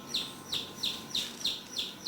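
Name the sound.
chick chirping from inside its egg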